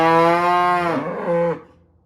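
A cow bellows a loud, drawn-out moo close by, calling for her calf after sorting, with the call wavering and breaking off near the end.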